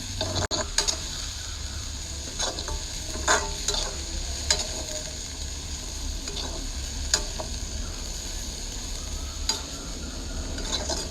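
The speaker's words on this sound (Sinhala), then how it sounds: "මෙහෙම දෙපාරක් තුන් පාරක් කලවම් කරගෙන ටක් ගාලා ගන්න ඕනේ" Kangkung stir-fried in hot oil gives a steady, close sizzle with the light scrape and tick of stirring running through it. No one speaks.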